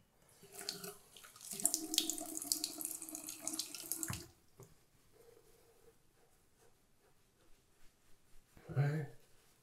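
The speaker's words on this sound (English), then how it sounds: "All right, let's rinse it off." A bathroom sink faucet runs water for a rinse of the face, a steady splashing rush for about four seconds, then cutting off to quiet with a brief second burst of water near the end.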